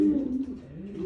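A racing pigeon, a quality breeding bird that won a 450-kilometre short-distance race in Japan, coos nearby in a low, steady, throaty rolling call held through the whole moment, with no voice over it.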